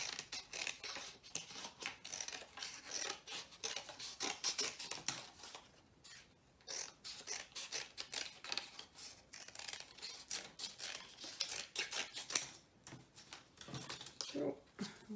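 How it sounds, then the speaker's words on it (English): Scissors cutting along drawn lines on paper for a homemade clock, close, with quick crisp snips in short bursts separated by brief pauses, a voice talking at times over the cutting. "I'm going to carefully cut along the lines."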